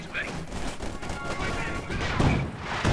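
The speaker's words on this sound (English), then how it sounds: "So I keep firing a new tactic, barrage, attacking from a distance." Artillery barrage firing in the strategy game Company of Heroes 2, heard as a continuous rumbling fusillade of distant blasts and crashes with someone talking over it throughout.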